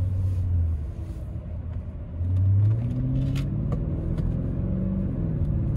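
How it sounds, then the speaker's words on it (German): A Mercedes S500 V8 pulls away in first gear, its deep engine rumble rising in pitch through two climbing surges, close and steady, with no talking. "Ich bin jetzt in S, das heißt, er fährt im ersten los."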